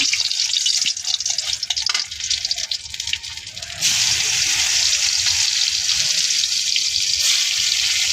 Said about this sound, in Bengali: এদিকে শুকনো মরিচটা দিয়ে নিচ্ছে এরকম রসুনটা দিয়ে নেব